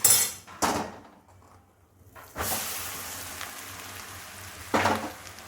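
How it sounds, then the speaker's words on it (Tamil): Mango pieces sautéing with chili powder in a pan, heard as a few loud metallic scrapes and knocks of a spoon stirring against the pan, with a soft sizzle between them. "நல்லா வதக்கிக்கலாம்."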